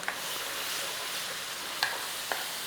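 Beef mince releasing moisture as it cooks in a pan, a steady soft sizzle with a couple of brief utensil scrapes near the end, nearby and with no voices.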